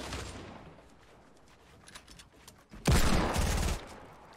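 SCAR rifle fire in a Fortnite match: scattered quieter shots early, then a loud, dense burst of rapid gunfire near the end that stops abruptly, with no talk over it.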